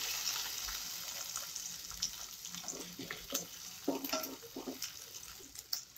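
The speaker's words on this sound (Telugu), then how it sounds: "2 ఎండుమిర్చి చిన్నగా కట్ చేసుకున్న 1 టమాటో ముక్కలు వేసుకొని ఫ్రై చేసుకోవాలి" Tomato pieces and cut dried red chillies fry in lightly heated oil, a soft steady sizzle broken by several sharp spoon scrapes and crackles toward the end.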